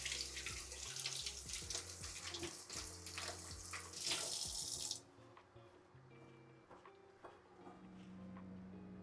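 Tap water runs loudly into a sink while a small handful of fruit is rinsed, a steady close splashing that cuts off abruptly halfway, leaving faint room noise.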